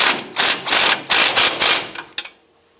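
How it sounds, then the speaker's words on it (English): Air tool bursts tighten the lower strut bolt on a 2004-2012 Chevy Colorado strut and spring assembly: five loud, close, buzzing rattles in quick succession, then a few short taps and silence. "And tighten up our lower strut bolt."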